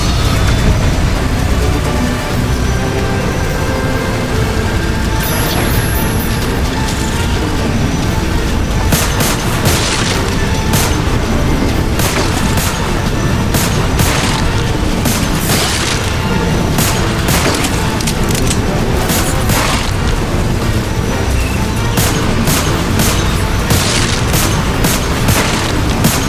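Dense gunfire and booming explosions fill the Lost Planet 3 video game battle without a break, with rapid bursts of shots layered over a constant heavy roar.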